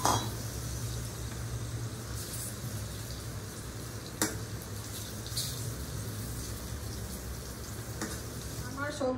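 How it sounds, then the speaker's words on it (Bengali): Paneer pieces coated in yellow food colouring and salt fry steadily in hot oil in a kadai, a continuous sizzle running the whole way with a few brief clinks of utensils. "এবার পনিরগুলো ভালো করে ভেজে নেব।"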